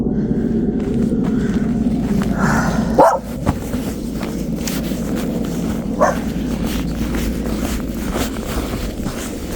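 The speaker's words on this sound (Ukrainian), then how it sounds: "Гавкай, гавкай Джесі на нього." A dog barks a couple of times at a distance, single sharp barks over a steady outdoor rumble and some shuffling steps.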